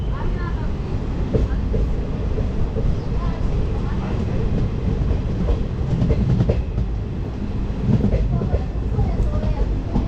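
A passenger train runs steadily on the rails toward Kolkata from Haldibari, a loud continuous rumble with rhythmic clickety-clack from inside the carriage and faint voices mixed in.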